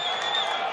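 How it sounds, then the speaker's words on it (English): Crowd reacting to Blizzard's announcement of Diablo Immortal at a live gaming event, a steady roar of many voices with cheers and whoops, loud and continuous through a very brief moment. "take a look at the crowd reaction when Blizzard announced Diablo Immortal"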